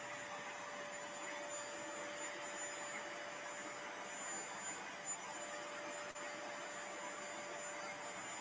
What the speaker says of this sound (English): carpet shampooer.